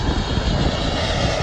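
A heavy Lufthansa airliner lands at an international airport with a loud, steady jet-engine roar that stays even for the whole moment. No voices.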